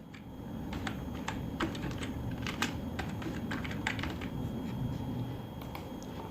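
Rapid keystrokes on a computer keyboard while filling in an online e-stamp paper form, irregular clicks in short bursts over a low steady room hum, close and clear throughout.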